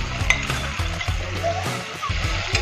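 Ginger, garlic, chilli, cumin and coriander paste fries steadily in a pan while making matar pulao, a continuous close sizzle with soft stirring scrapes.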